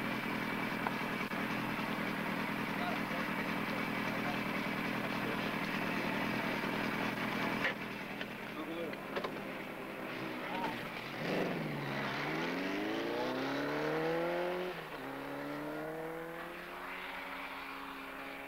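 Kawasaki Z1 900 motorcycle circling an oval track, its engine a steady loud drone that shifts in pitch as the bike passes and accelerates, with the rising and falling tone of a machine sweeping by. No talk.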